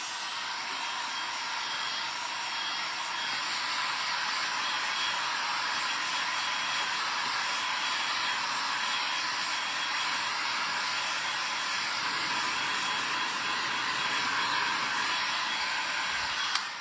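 A hair dryer blows hot air to dry paint on a gingerbread-themed double-sided trivet, a loud, steady, unbroken whoosh that runs close and constant throughout with no speech.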